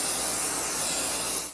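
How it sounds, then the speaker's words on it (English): A spray bottle mists onto a hotel bed sheet in one continuous close hiss lasting about a second and a half, then tapering off abruptly. "It's time to spray away."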